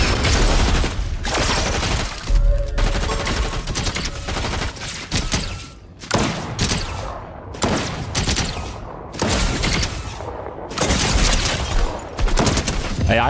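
Turret gunfire in the Fortnite video game, loud bursts of rapid shots broken by brief pauses, mixed with booms and mechanical clatter, with voices talking over parts.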